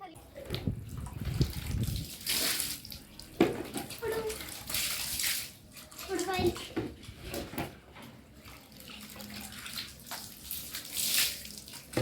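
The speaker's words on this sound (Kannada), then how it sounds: "ನೀನು ಸ್ನಾನ ಮಾಡಿಸ್ತಾ ಇರೋದು" Water pouring and splashing as a pet dog is bathed, close bursts of splashes and running water in uneven spurts, with people talking over it.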